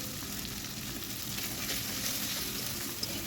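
Chui jhal spice hits hot oil in a pan while duck is being cooked, giving a dense, continuous sizzle with faint stirring, close and loud throughout.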